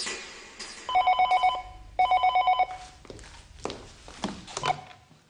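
A telephone rings indoors in two clear bursts of rapid, bright bell trills, followed by footsteps, shuffling and thumps in the room.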